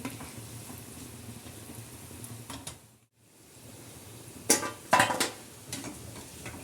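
Moong dal roasts in a pan with a soft steady sizzle, broken by scraping stirs and a few sharp metallic clinks of a spoon against the pan, briefly hushing before louder stirring strokes.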